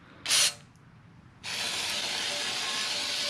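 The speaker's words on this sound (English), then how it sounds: "Let's see what this brake cleaner can do." A brief sharp hiss of brake cleaner spray into a Redeye supercharger, a pause, then a loud continuous spraying hiss that carries on steadily to the end.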